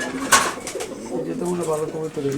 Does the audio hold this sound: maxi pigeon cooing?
yes